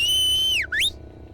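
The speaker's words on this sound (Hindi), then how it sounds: "सीटियां मारता है" A single loud wolf whistle, a long high note that dips low then swoops back up sharply, close and clear.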